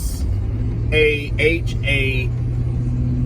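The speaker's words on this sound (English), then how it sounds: "It seems we're always in a vehicle headed somewhere" Low steady road rumble inside a moving car on the way to a hockey championship, continuous under a voice speaking close by.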